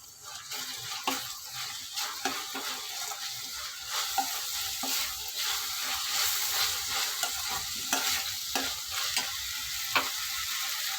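Ginger garlic paste frying and being stirred in a pan, a steady close sizzle with scraping stir strokes throughout, no talking.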